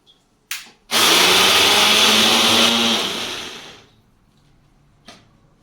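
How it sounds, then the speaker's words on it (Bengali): An electric mixer grinder grinds cumin seeds in a loud, close burst that lasts a few seconds, preceded by a brief clack and tapering to a fading whir before a final click. "এই মিক্সিগুলো খুব ভালো জিরাটা গুঁড়ো করবো"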